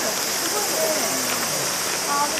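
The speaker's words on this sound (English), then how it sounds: "so here's the waterfall." The Kusu waterfall pours in a constant broad hissing rush, loud and steady, with faint voices of a crowd of visitors mixed underneath.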